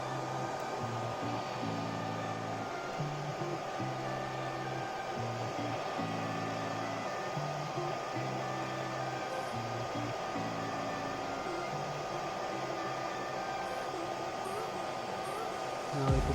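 An Ender 3 V2 3D printer extruding 25 mm of filament during a filament change: a steady whirring fan drone with repeating pulsed motor tones, close and continuous, with no talking.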